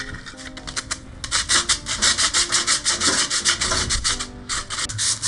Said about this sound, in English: Let's sand. Sand, sand, sand.